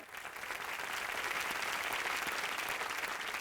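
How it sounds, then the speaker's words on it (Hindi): Studio audience applause on the TV game show Big Memsaab Season 8, a dense, even roar of many hands clapping that rises quickly and holds steady at a moderate level for a few seconds, with no voices over it. "तालियां"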